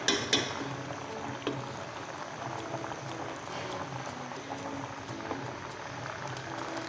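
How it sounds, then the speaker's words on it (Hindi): Spice masala fries in oil in a pan with a steady, close sizzle and bubbling, broken by a few sharper pops near the start and scattered crackles throughout. "इसको हम अच्छे तरीके से मसाले को भून लेते हैं"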